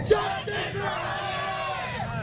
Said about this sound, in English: These chants have been going on now for probably the last 30 minutes.